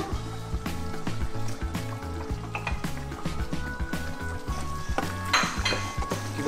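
Mutton biryani masala with tomatoes is stirred in a pot, a spoon scraping and knocking in a quick, steady rhythm over a constant oily sizzle, close and fairly loud with no talk.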